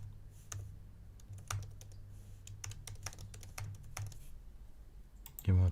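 Quick, light keystrokes tap out a password on a computer keyboard in an uneven stream, close and quiet over a low steady hum, ending in a brief louder bump.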